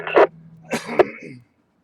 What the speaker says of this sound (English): let me clear my throat, please.